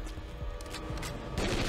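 Gunfire in the video game Tomb Raider Legend: rapid, dense bursts of shots crackle in quick succession at moderate loudness across a brief stretch, with no talking over them.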